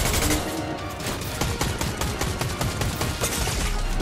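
Rapid, dense gunfire from the video game Fortnite, a continuous loud burst of overlapping shots with no pause.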